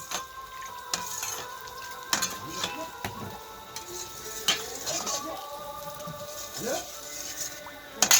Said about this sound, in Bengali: ভালোভাবে নাড়িয়ে সুন্দর করে জলটা পাতলা করে গুলে নিতে হবে